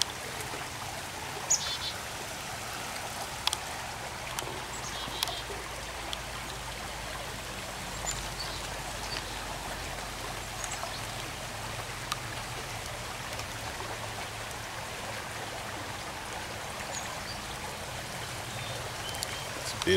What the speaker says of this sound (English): Beautiful creek.